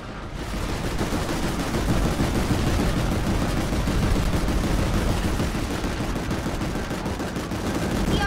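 Dense, continuous gunfire from many weapons rattles nonstop through a Planetside 2 battle, loud and close, with overlapping automatic bursts and no pauses.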